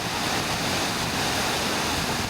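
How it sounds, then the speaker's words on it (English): Water pours steadily over a weir at Bedale in North Yorkshire, a dense, continuous rushing roar with no breaks, close and loud, with nobody speaking. "where this weir is"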